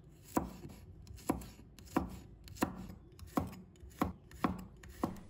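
A knife slices garlic cloves on a cutting board, eight crisp, evenly spaced chops close up and fairly quiet, with no voices.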